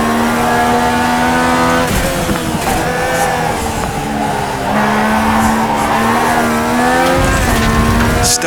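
A race car in iRacing sliding and breaking loose: a loud, sustained engine drone with shifting revs and brief gear changes, tire squeal layered through the slide, heard alone without speech.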